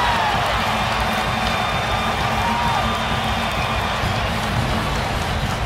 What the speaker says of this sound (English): Crowd loving what they're witnessing in the last couple of minutes